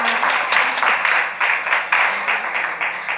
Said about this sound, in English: Let's clap Samaya up.